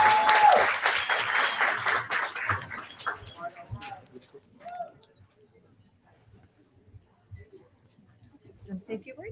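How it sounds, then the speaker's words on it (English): An audience at a banquet gives a round of applause: dense clapping that is loud at first, then thins out and fades into scattered sounds and quiet. "join me in a round of applause"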